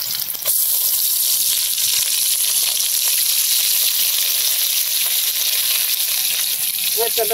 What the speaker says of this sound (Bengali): মাংসের মধ্যে হলুদ আর লবণ দিয়ে আমার ভাজা হয়েছে